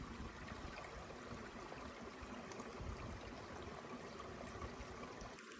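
Steady flowing stream at a trail water source on a Big Sur hike toward Cone Peak, a continuous close rushing and trickling wash with no speech.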